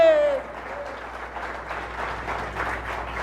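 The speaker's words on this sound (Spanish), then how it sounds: "Alguien le da un aplauso fuerte al nombre del Señor" Church congregation clapping loudly for the name of the Lord, steady, even applause filling the room after a brief vocal tail at the start.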